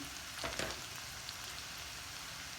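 Onions, garlic and ginger fry in a pan for a karela, aloo and onion dish, making a faint, steady sizzling hiss with a brief soft clatter near the start.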